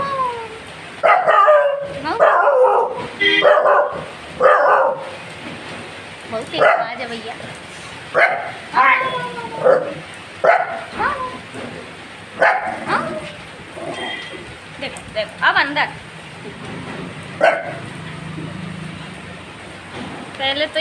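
A timid household dog barks and yips repeatedly in short, loud bursts at a rural home, interspersed with a person speaking nearby.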